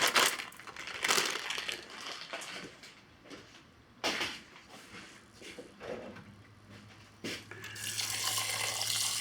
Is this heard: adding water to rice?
yes